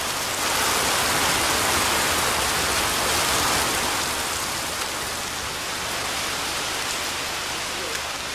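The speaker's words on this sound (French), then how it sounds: "Une pluie torrentielle s'abat sur les bananeraies qui entourent le petit village d'Aracataca" Torrential rain pours down over banana plantations around a small Colombian village, a dense, continuous hiss that stays loud and even throughout.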